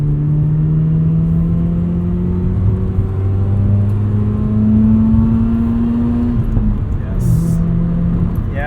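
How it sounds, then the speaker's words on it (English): A 1990 FC Mazda RX-7 rotary engine hums steadily with rising and falling harmonic tones as it revs, a continuous smooth drone with a faint voice briefly underneath. "It almost feels like the engine gets smoother the higher you rev it."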